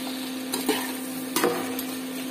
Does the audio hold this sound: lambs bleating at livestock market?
no